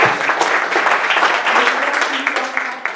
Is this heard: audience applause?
yes